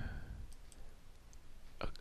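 Several faint, sharp computer mouse clicks, spaced irregularly in a quiet room, with one slightly louder click near the end.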